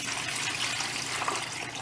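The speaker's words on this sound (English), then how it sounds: "so let's dump this water and see." Water dumped from a whole-house water filter housing, a continuous close splashing gush with a trickling, liquid texture, steady and loud with no voices.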